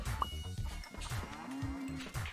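Cows lowing in the farm level of the video game Moving Out 2, a few short bovine calls, one drawn-out moo in the middle, over steady game music and effects.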